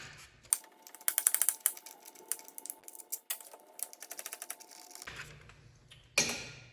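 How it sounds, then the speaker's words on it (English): Ratchet turning out manifold studs with a T6 inverted Torx socket on a BMW during a starter swap: quick runs of close, dry clicking with short gaps, ending in a sharper burst. "using a T6 inverted female Torx. I'm going to take and remove the studs."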